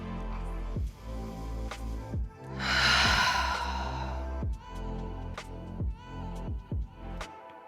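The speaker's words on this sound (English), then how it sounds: "Breathing here." Slow, deep breathing during a yoga power flow class, with a long audible sigh-like exhale standing out midway and softer breaths around it over a steady background.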